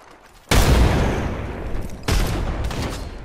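Two heavy blasts from a Mozambique in a video game: a loud, close boom with a long decaying tail, then a second shot about a second and a half later.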